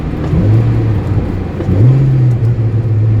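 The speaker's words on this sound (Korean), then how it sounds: "3단까지 낮추고 코너 앞에서 2단까지 낮췄고요" Lotus Elan engine drone dips, then rises in pitch as revs climb after a manual downshift to third and then second gear before a corner, close and steady.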